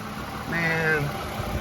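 A 2010 Lexus ES350 with a 2GR-FE engine idles with a low, smooth, even hum while someone talks over it.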